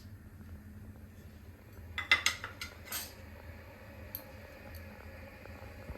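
Whole garam masala spices dropped into a pot of salted water for a veg potato biryani, a quick cluster of small clinks and taps against the metal pot, then a faint tick, over a low steady background.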